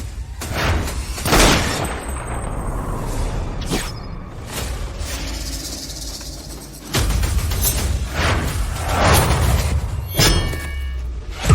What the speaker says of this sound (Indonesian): Tembak, buka tembakan.